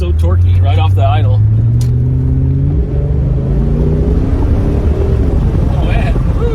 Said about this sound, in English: that engine's so torquey right off the idle